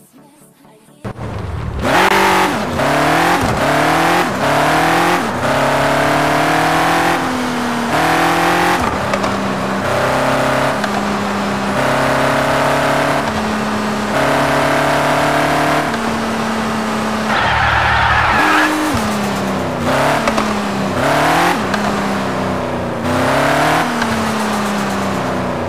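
Modified car engine in the mobile game Car Parking Multiplayer revs repeatedly, climbing through rising pitch sweeps with quick drops between shifts, loud and continuous for about twenty-five seconds with no talking.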